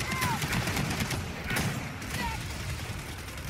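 Continuous gunfire in the Gears of War 4 video game, rapid overlapping shots forming a dense, steady barrage from start to finish, with occasional speech mixed in.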